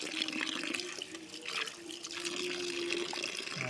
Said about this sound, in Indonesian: kita cuci sampai bersih ya guys